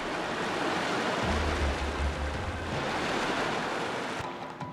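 Water waves in Paper Mario: TTYD wash steadily, a dense continuous surf-like rush at moderate level with a low rumbling swell partway through.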